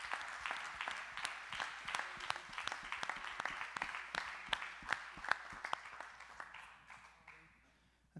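Church congregation at a Sunday service clapping hands in tribute to those who gave their lives in service, a quiet, distant round of steady applause that tapers away near the end.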